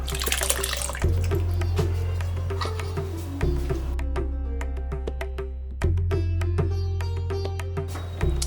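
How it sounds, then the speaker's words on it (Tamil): Boiled milk pours into a pan of semiya payasam in several separate splashing pours, each a low gurgling gush that settles into lighter trickling, close by and with no talking. "நான் எங்கிட்ட காய்ச்சின பால் வச்சுருக்கேன், ஒரு 2 டம்ளர் சேர்த்துறேன்"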